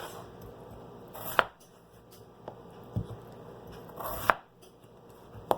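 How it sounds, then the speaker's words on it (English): A hand potato masher pounds boiled potatoes in a kitchen, making soft, dull thumps and squelches. Each press lands about every second or so over quiet background noise. "I use a potato masher to mash the potatoes."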